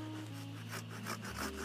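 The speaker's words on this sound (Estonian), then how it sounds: "Ja kuna oks on piisavalt jäme, siis võib-olla on parem teha siin see lõige saega." A hand saw cuts through a thick branch of an old apple tree during pruning, giving faint, quick back-and-forth rasping strokes in a steady rhythm with a low hum underneath.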